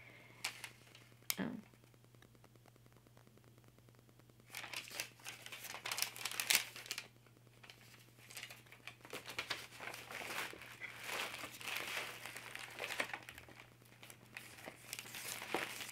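Paper store receipt with the store and price details cut off, crinkled and handled close up in short bursts of crisp rustling, with a quiet gap before the steadier crinkling resumes.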